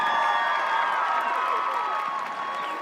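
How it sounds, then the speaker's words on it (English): Sustained applause and cheering from a crowd for student speakers at the West Ottawa High School Class of 2025 graduation ceremony, steady and loud throughout. "Can we have one more round of applause for our student speakers tonight?"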